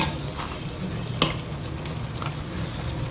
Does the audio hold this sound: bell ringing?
no